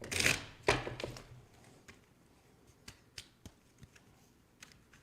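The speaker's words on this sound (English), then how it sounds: "You get another shuffle." Tarot cards are shuffled by hand in a quiet room, a burst of riffling followed by scattered sharp taps and flicks at irregular intervals, close and fairly soft.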